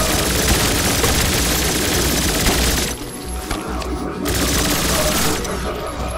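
Gunfire from the video game Turbo Overkill, with loud, dense rapid bursts and crashing, shattering impacts that drop away briefly mid-way, then resume at full intensity.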